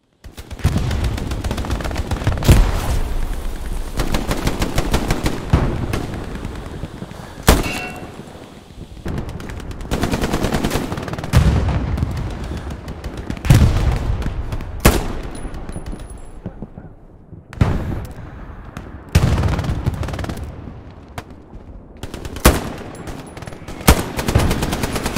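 Sustained gunfire from a Hell Let Loose battle, with dense rifle and machine-gun bursts rattling almost continuously and sharp louder shots punctuating the racket, close and loud throughout.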